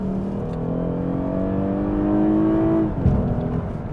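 A fourth-generation Lexus GS sedan in Sport Plus pulls hard with a rising engine note held long in one gear, then drops sharply at an upshift and resumes a lower tone, heard close with no talking.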